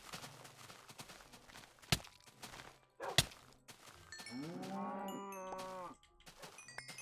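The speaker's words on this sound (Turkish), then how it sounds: "Oğlum inek var." A Minecraft cow lets out one drawn-out, wavering moo, close and clear, with scattered footsteps and sharp clicks from play before it and faint game sounds around it.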